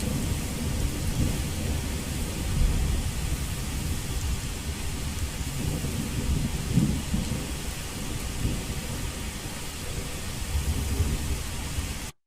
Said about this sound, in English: The thunder above you, the raindrops externalized and around you.